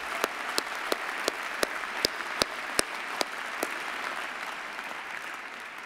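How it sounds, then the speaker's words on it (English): An audience applauds a graduating class of engineering students at a university postgraduate ceremony, with a steady dense wash of clapping and a few sharper individual claps standing out, sustained throughout at moderate level. "Please join me in a round of applause to the graduating class."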